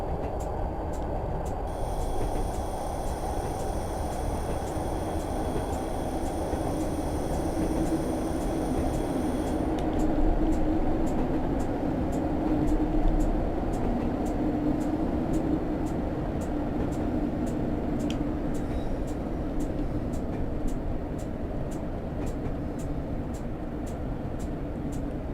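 Class 101 DMU diesel multiple unit in a train simulator, running downhill between Barnard Castle and Bishop Auckland. A continuous low engine drone and rolling rumble, with a high whine and faint rhythmic clicks in the first part.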